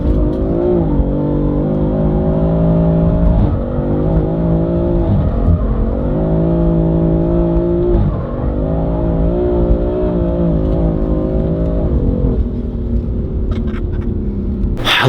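A car engine revs hard and continuously while drifting along a mountain road at night, a loud, close, sustained roar whose pitch rises and falls in repeated swells as the throttle is worked.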